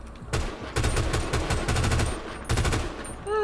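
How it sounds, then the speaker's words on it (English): Rapid automatic fire from an AK assault rifle in a video game with a gun sound mod, loud close bursts of repeated sharp cracks with a brief pause between strings, no talking. "I still feel like they've yet to nail the AK sound"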